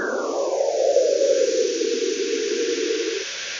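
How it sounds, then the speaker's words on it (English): A photo of a banana turned into sound by sonification produces a hissing, noisy tone that sweeps downward in pitch, then holds steady before cutting off near the end, loud and alone. "That's the sound of this photo of a banana."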